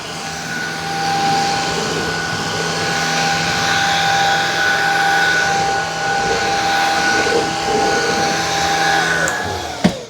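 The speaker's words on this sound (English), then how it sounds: "they both roll the same and are vacuuming the same" Shark Vertex Pro and Shark Pet Essentials vacuum cleaners run on a floor after a furniture cleanup: a loud, steady whirring motor drone with a high whine that holds for the whole stretch, ending in a brief knock.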